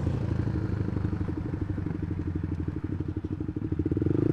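Modified old Honda CB150 motorcycle idling or pulling slowly, a rapid pulsing low exhaust putter with clattery texture, steady and close throughout.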